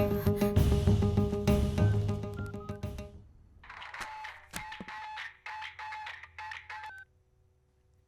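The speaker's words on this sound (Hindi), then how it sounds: "फोन लगाओ उसे।" A phone's keypad tones beep one after another as a number is dialed, with a ringing electronic tone at first and then quieter button tones.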